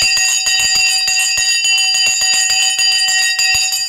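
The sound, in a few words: stock market opening bell ringing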